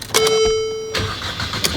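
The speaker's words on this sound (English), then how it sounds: "start up the car" A Mercedes engine cranks and catches after a misfire repair, with a brief starter whine, then settles into a close, low idle.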